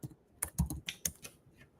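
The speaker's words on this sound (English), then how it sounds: "Let me just type in plumber Atlanta" Quick burst of typing on a computer keyboard entering a search, about eight crisp close keystrokes in an uneven patter over under two seconds.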